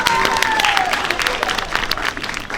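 Audience at a high school spring concert applauds, a dense patter of clapping under a brief spoken voice, fading slightly toward the end.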